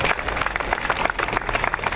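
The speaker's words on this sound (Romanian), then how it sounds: "rog să-i aplaudem cu tot respectul" Audience applause at a district anniversary ceremony in Ialoveni, a dense, steady wash of many hands clapping together, fairly loud and continuous throughout without pause.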